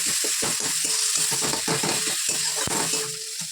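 Onion and garlic paste hits a little leftover oil in a wok after fish frying, making a loud continuous sizzle. Scraping and stirring clatters cut through in uneven bursts.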